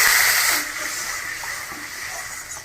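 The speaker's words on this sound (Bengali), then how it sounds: "মশলাটা ভাজা হয়ে গেছে, আমি অল্প জল দিয়ে দিচ্ছি।" Hot fried spice paste of ground masala, turmeric and salt hisses loudly as a little water hits it, a strong steamy burst that eases after half a second into a steady, slightly quieter sizzle with no talking.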